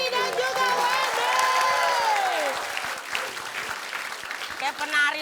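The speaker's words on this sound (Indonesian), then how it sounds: "Kita kasih tepuk tangan yang meriah buat Panji, Dini, dan juga Wendy." Studio audience applause and cheering on an Indonesian comedy variety show, a loud steady wash of clapping mixed with voices and shouting over the whole stretch.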